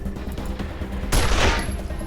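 Gunfire in the video game Wasteland 2 Director's Cut, a sudden loud burst of shots that cuts through a low background hum about midway and then decays, with no talking.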